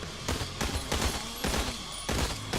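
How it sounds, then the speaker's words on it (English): Assault rifle fire in the vehicular combat game Death Drive, loud rapid shots in quick bursts with a dense, steady rhythm and no talking. "an assault rifle"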